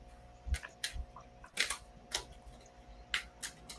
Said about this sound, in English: I'm still shuffling though.